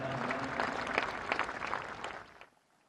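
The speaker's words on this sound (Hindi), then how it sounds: "एक बार पुनः तालियों के उद्घोष के साथ इन पलों का अभिवादन करें।" A large audience at a formal inauguration ceremony applauds steadily and loudly, the clapping dense and sustained for about two and a half seconds before cutting off into near silence.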